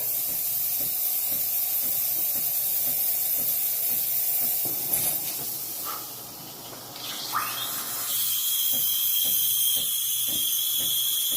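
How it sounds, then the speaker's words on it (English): An espresso machine steam wand frothing milk hisses steadily and loudly, shifting in tone midway as it briefly quiets, then returning with a higher, airy whistle. "And then I'm going to go ahead and froth some milk"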